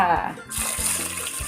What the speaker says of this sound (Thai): เทน้ำลงไปค่ะ